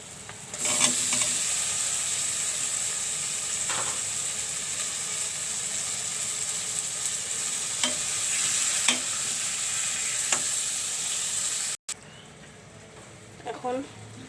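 Cucumbers go into spiced hilsa fish curry and fry in a pan, a steady sizzle running throughout with a few scraping stirs of the spoon, briefly cut off near the end before resuming.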